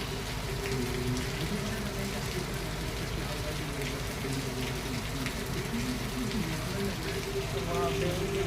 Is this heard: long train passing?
no